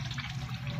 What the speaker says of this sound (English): I'm just going to rinse this out some